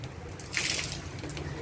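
Water dripping and trickling from rain-soaked boots indoors after a heavy rain, a faint, steady wet patter with a brief splashier burst, no talk.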